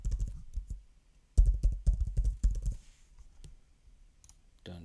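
Password keys tapped on a computer keyboard in bursts of close, crisp clicks, a quick run, then a louder cluster of rapid strokes, then a few sparse taps, with no talking.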